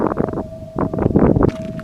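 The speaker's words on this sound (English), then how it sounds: "I know it's windy, but it isn't that windy." Gusty wind buffets a trail camera microphone in bursts, with broadband rumbling noise and a steady low tone running underneath.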